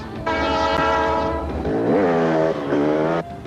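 A moving train on railroad tracks at a curve sounds a loud, close horn in several sustained blasts whose pitch bends midway, over a low rumble.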